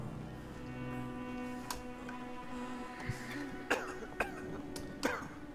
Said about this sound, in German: der hustet sich aber auch eins recht